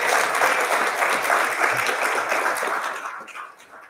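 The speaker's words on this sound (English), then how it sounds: "If you love Jesus, give him a hand clap," Congregation at a memorial service clapping hands in a sustained, fairly loud round of applause that fades out near the end.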